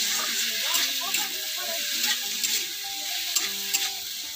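Fish curry sizzles and fries in a pan while being stirred, a constant crackling hiss with scraping stirring strokes throughout, fairly close.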